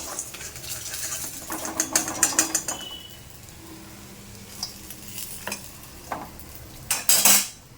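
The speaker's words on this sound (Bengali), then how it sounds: "মাছ ভাজাটা হলেই এটা বন্ধ করে দিয়ে মাছটা নামিয়ে নিই" Pieces of catla fish fry in oil in a home kitchen pan, with a soft sizzle and intermittent clinks and scrapes of a utensil against the pan, quiet and close, with no talking.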